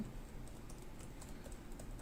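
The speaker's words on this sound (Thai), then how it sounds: "เดี๋ยวเรามาลองเทสในส่วนตัวคีย์บอร์ดกันดูดีกว่า" Quick, light key clicks on the keyboard of an HP Pavilion x360 laptop under repair after water damage, a soft irregular tapping close by in a quiet room.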